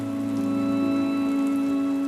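Steady storybook rain effect falling on a surface during a thunderstorm tale, a continuous hiss of drops running alone under a sustained tonal background bed, even and unbroken from start to finish.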